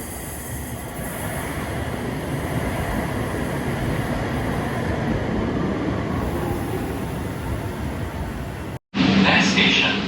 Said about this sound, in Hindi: तो अभी हम लोग ट्रेन में हैं, बहुत ही क्लीन है एकदम